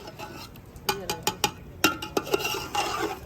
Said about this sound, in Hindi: चिकन जो है हमने ऐड कर दिया, इसको जो है अच्छे तरीके से मिक्स करते हैं